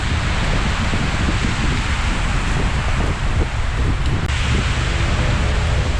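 Steady wind blows hard outdoors near Skagway, Alaska, a constant loud rushing roar buffeting the microphone throughout with no pauses.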